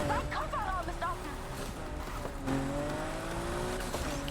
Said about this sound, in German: Und jetzt fährt der Typ irgendwie mit gefühlten 400 km/h weg.